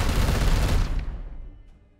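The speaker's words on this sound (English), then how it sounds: "Opening fire." Gunfire burst in the Warhammer 40,000: Chaos Gate – Daemonhunters video game, a loud dense volley fading out over about two seconds.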